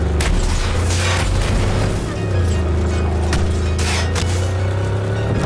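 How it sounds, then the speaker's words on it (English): A car engine in the Cyberpunk 2077 video game holds a deep, steady low rumble, loud and close, with a few sharp bursts and thumps breaking over the drone. "I like the sound of that engine."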